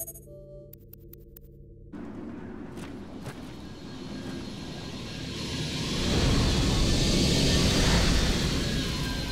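Super 35, a dropship aircraft in the video game Vanquish, rumbles in to land, its engine roar swelling from a steady drone to a loud, close, broad whoosh, with no talking.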